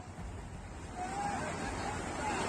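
Fast-flowing floodwater after heavy rain in Bihar, strong enough to sweep away a motorbike, gives a steady broadband rushing roar. It is continuous and grows slightly louder partway through, with faint background voices.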